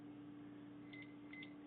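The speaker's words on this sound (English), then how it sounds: "So I'll set my timer right here, turn it on." A kitchen timer is set while caramel popcorn is being made, giving a few faint, short electronic beeps in quick pairs over a low steady hum.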